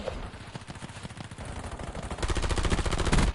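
Rapid gunfire from a hard-recoiling gun in the battle royale shooter Blackout, with dense back-to-back shots that grow louder and heavier toward the end.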